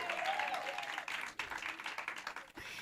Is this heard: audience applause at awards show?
yes